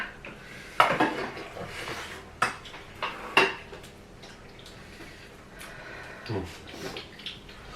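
Metal utensil clanking and scraping against a wok in a few sharp knocks while stir-frying cabbage, with a faint background hiss between strikes.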